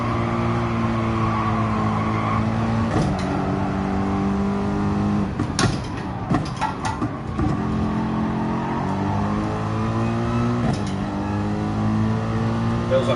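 Race cars in Gran Turismo Sport on the Fuji circuit, engines revving high and dropping through gear changes, with sharp downshifts and a brief rough stretch midway, continuous and loud.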